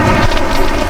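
Heavy rain pours with a deep thunder rumble in a Malayalam film scene, loud and close, a dense continuous wash with no voices.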